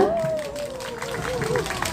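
A crowd applauds to welcome a performer at an outdoor Buddha's Birthday ceremony in Tapgol Park. Steady clapping and murmuring persist under a sustained, wavering tone.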